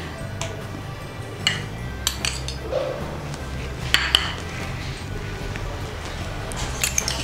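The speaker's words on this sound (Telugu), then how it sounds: "ముందుగా మనం తీసుకున్న ఫ్రూట్స్ని ఇందులో మిక్స్ చేద్దాం." A spoon clinks and scrapes against a bowl while fruits are mixed into chilled custard, irregular light metallic taps and soft squishing over quiet room tone.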